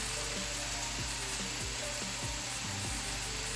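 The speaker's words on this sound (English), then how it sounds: "So now I'm gonna put a bit of soy sauce in." Steady close sizzle of vegetables and noodles frying in a pan as low-sodium soy sauce is poured in, a continuous hiss with faint periodic stirring knocks and no talking.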